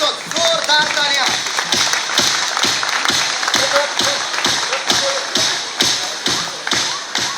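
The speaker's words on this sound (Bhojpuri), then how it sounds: "जोरदार तालियां" Loud, sustained applause fills an indoor music release event, dense clapping with rhythmic thumps running throughout, crowd voices faintly mixed in.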